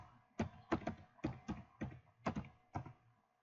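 Keystrokes on a computer keyboard as a command is typed into the Windows command prompt: seven or eight distinct, close, fairly soft key clacks in an uneven rhythm, heard alone.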